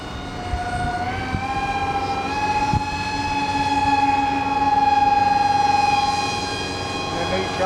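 An RC model airplane, a six-foot DragonClip, drones overhead with a steady high-pitched motor whine that rises slightly in pitch and swells louder as it passes, heard continuously outdoors.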